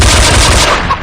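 Burst of film gunfire sound effect, several men firing for a long stretch, here a dense, loud rapid volley that runs continuously and then tapers slightly, with no talk.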